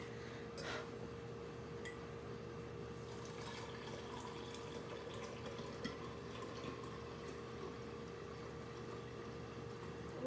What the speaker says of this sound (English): and I'm going to run it through the strainer again.